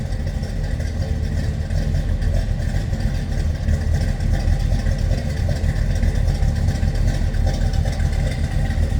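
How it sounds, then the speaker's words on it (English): A 1984 Chevrolet Caprice Classic sedan with a 350 small block Chevy V8 topped by an Edelbrock 4-barrel carburetor, idling with a deep, steady low rumble close by and no talk. "Edelbrock 4-barrel on top of that 350 small block Chev,"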